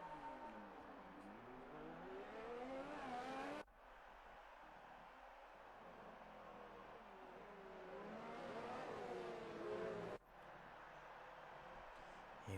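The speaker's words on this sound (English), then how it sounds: "Here we go, let's see LH44 going round, leading the pack away." Race cars pulling away on the formation lap in a racing video game at the Brazilian GP, engine whine rising and falling in pitch as cars accelerate, with abrupt cuts between steady droning passages.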